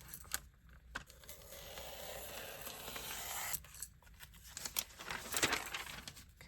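Scissors cutting a paper figure out of a magazine page: quiet, close snipping and crinkling paper with short tearing rustles, a few sharper bursts between softer stretches.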